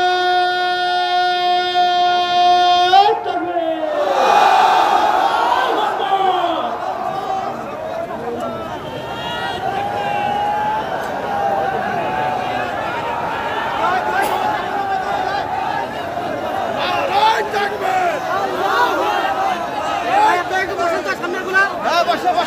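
A rally crowd at a party workers' conference in Thakurgaon roars back in answer to a slogan, a loud surge of many voices following a brief tone, then an ongoing crowd murmur and chatter.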